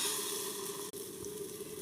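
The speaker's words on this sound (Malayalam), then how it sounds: "നല്ല ചൂടായ ചട്ടിയിലേക്ക് മാവ് ഒഴിക്കുക." Vellayappam batter (rice-flour appam batter) sizzles steadily in a very hot pan, a close, continuous hiss with no voices, broken by one brief dropout near the middle.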